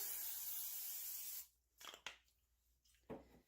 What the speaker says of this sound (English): Then we want to cover them with some cooking spray.